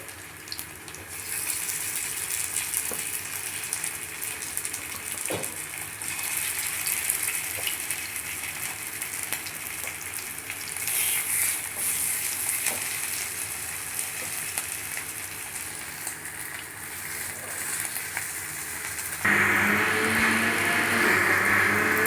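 Coin parotta frying in hot oil in a pan, a steady hiss and sizzle that goes on throughout, growing louder and bubblier near the end, with no talking.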